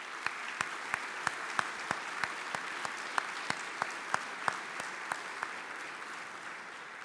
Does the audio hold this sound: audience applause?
yes